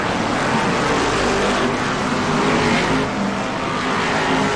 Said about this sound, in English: just look at the way those cars are streaking down that back straight